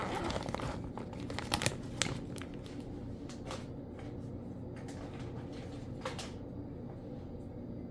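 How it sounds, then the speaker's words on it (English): Cardboard for a cube box being cut with a sharp blade cutter, producing crinkling, scraping and tearing sounds in irregular close bursts, with no talk. "now I'm going to cut my first cut. Cutting this out."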